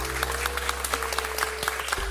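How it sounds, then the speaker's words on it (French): Canned applause sound effect in a French parliament roleplay game session, a steady dense patter of many clapping hands, fairly close and even, with a low hum beneath and no clear talk. "on a eu les applaudissements du côté de l'Assemblée nationale et on a eu les applaudissements dans les bancs des ministres aussi"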